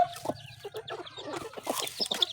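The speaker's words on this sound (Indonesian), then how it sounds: "Sudah berisik banget, ada ayam." Chickens cluck nearby in quick, irregular bursts, a few sharper squawks breaking through the chatter.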